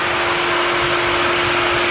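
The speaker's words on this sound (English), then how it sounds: "Started the car back up." A 2009 Ford Flex engine idles steadily just after being restarted, a loud, even hum and rumble with no talking over it.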